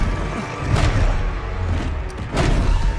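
Confringo fire blast spell impact in the Hogwarts Legacy video game: loud rumbling booms and thuds, with two sharp bursts about a second and a half apart over a continuous low roar.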